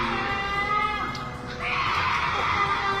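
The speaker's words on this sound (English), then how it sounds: "Sounds like a screech that goes right through your ears and sticks into your heart." A harsh, piercing screech in purported ghost footage near railway tracks, rising in two long strained wails with a short dip between, loud and close with a shrill, scraping edge.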